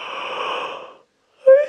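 A big open-mouthed yawn during a relaxing prenatal evening yoga session, a long breathy exhale with a voiced tone that fades out, then a short rising vocal sound after a pause.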